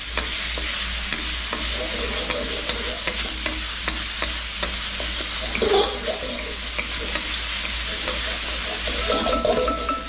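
Scallion ramen noodles frying in oil in a pan give off a steady, close sizzle, with repeated scraping and stirring clicks over the whole stretch and no one talking.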